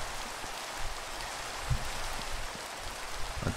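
Steady rain falling in Minecraft, a dense even hiss of drops throughout with a few soft low thumps, no talking.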